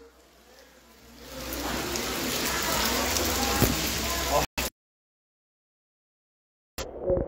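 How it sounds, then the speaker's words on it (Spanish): Heavy flooding rain in Amecameca, Mexico roars in a dense, steady wash for several seconds, then the sound cuts out abruptly before a short return. "La magnitud de la lluvia."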